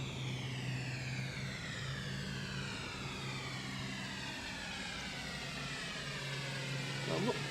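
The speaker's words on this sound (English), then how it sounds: "C-130's on the roll now." A C-130 transport aircraft on its takeoff roll at an airshow, a steady, fairly distant propeller-engine drone that holds evenly throughout with no talk over it.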